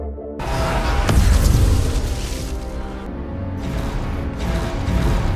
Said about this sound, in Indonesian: Farah, mengeluarkan C4 berukuran mini lalu meledakkan lokasi dirinya ditahan